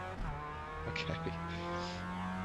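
Race car engine in the iRacing sim, a steady droning hum with layered harmonics and slight pitch shifts, brief bursts of higher noise, heard continuously and fairly close.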